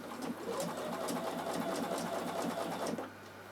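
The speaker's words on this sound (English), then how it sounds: "And just stitch it all the way around, lift up, turn." A Bernina sewing machine stitches around the edge of a fabric art book, running in a steady continuous whir with rapid needle ticks for about three seconds before easing off.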